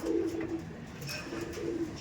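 Tournament racing pigeons kept in winter, low soft cooing from a bird or two, brief coos at the start and near the end over a faint background, no talk.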